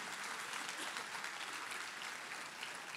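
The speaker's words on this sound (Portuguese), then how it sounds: "Vamos dar uma salva de palmas, curitibanos, né?" A church congregation gives sustained applause, a dense, even wash of many hands clapping at a distance, faint and steady for three seconds.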